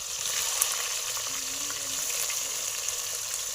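Onion, chilli and tomato fry for dhokla in a pan, giving a soft continuous sizzle and crackle with faint stirring, heard alone and fairly quiet.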